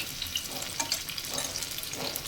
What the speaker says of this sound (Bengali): এইভাবে উল্টে পাল্টেই কিন্তু ভাজতে হবে